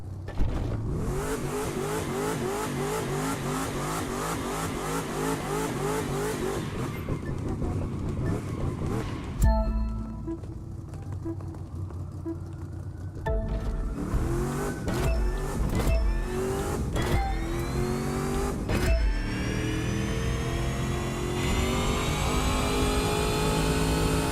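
A car engine in the racing video game The Crew 2 revs hard through the gears, each pull climbing in pitch then dropping at the shift, loud and continuous with a brief lull midway.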